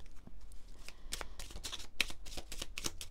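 Oracle cards from a small cosmic energies deck shuffled by hand, a steady run of crisp papery riffles and flicks with sharp card snaps throughout, close and alone with no talk.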